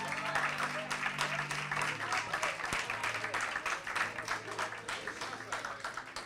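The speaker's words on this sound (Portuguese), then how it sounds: "Vamos aplaudir as mulheres aqui?" A church congregation applauds together, a dense, steady patter of many hands clapping at moderate volume from start to finish, with an undertone of the room and a faint voice.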